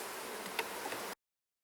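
Honey bees buzz steadily around an open beehive box during an inspection, a dense close hum with a faint tick near the middle before it cuts off abruptly.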